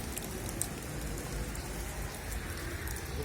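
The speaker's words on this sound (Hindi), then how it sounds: "अरे बारिश आया रे, भागो रे भागो।" Heavy rain pours down in the UAE, a steady, dense hiss of drops drumming on surfaces that stays even and loud throughout, with no voices over it.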